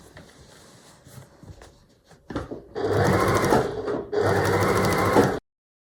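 A sewing machine stitches down the binding on a framed scraps quilt, running in two sustained loud bursts separated by a brief pause, after quieter handling sounds at the start.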